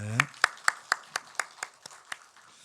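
A brief voice gives way to about nine evenly spaced claps from a church congregation at a Sunday service, fading slightly as they go, rhythmic rather than scattered.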